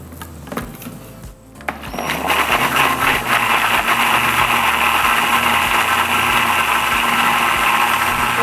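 A blender whirs continuously as it purees chicken liver mixed with egg for homemade dog treats, starting after a brief clatter and holding a loud, steady motor drone.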